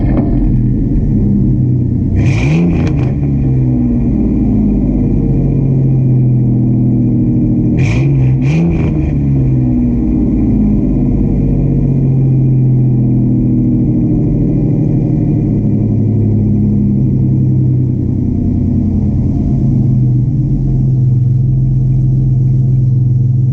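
A car engine rumbles loudly and close by, its exhaust note swelling in two sharp revs before settling back to a steady idle.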